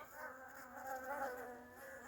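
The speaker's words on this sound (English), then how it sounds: "Congregation of bees" Many bees buzz close by at a beehive in a thick, continuous hum that swells and fades slightly.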